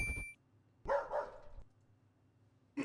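A dog barks in a video game: one short bark, then a longer double bark after a pause, and the start of another at the end, fairly close and clear over a faint electronic tone.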